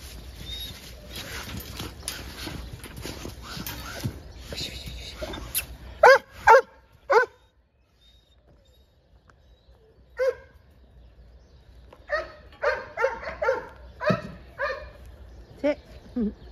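Several dogs bark in short, sharp bursts, a few loud close barks at first and then a quicker run of yips and barks later, over steady outdoor background noise with some faint voices early on.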